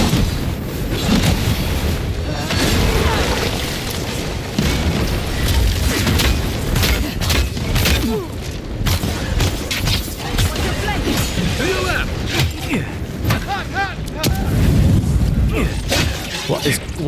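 Grenade blasts and shattering impacts in the fantasy game Avowed, a loud chaotic combat din of repeated bursts and booms for many seconds, with someone talking intermittently throughout.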